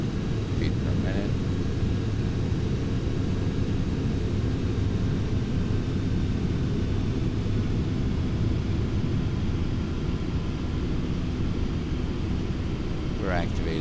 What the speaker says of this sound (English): The plane is going to bank to the right as it climbs up to our desired altitude